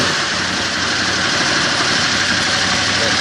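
A 2014 Aprilia Caponord motorcycle engine idles loudly and close by with a dense, steady mechanical rumble and no clear breaks.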